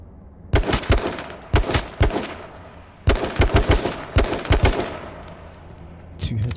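Bursts of gunfire in the survival shooter H1Z1, sharp loud shots in rapid clusters of three to five with short gaps, some ringing echo trailing each volley, no talking.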